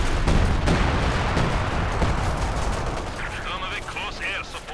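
Artillery and gunfire in Company of Heroes 2, a World War II real-time strategy game: a dense, continuous barrage of booms and rapid shots that stays loud throughout, with some higher-pitched game effects near the end.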